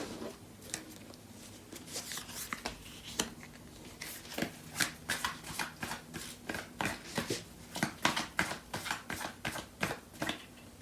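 Tarot cards are shuffled by hand in a rapid series of crisp riffling bursts, close and fairly soft, repeating in an uneven rhythm with no speech.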